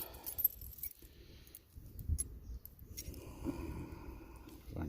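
Keys jangle as a key goes into the ignition of a Melroe 444 skid-steer loader, with close metallic clinks and rattles coming in bursts over a low background rumble.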